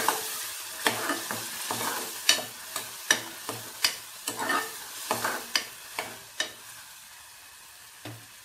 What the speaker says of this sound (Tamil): பச்சை வாசனை போகிற அளவுக்கு வதக்கிக்கணும்